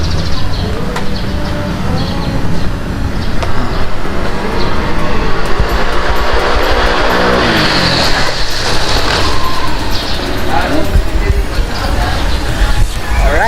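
A Honda ADV 150 scooter fitted with an upgraded 1200 RPM center spring accelerates past with a rising, loud engine note that swells and fades, set against steady outdoor background noise.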